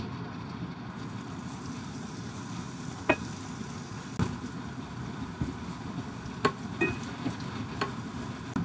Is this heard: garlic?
yes